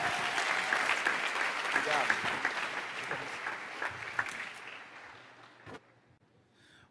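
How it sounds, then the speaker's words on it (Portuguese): An audience gives a long round of applause for a musician arriving on stage at an evening gospel event; the dense clapping is steady and full, then thins and fades toward the end. "Receba-o com a salva de palmas."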